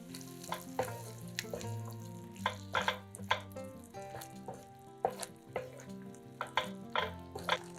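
Sour cream with a little flour being stirred in a hot frying pan, a soft continuous sizzle broken by repeated scraping and clacking of the utensil against the pan in an irregular rhythm, close and fairly quiet, no talking.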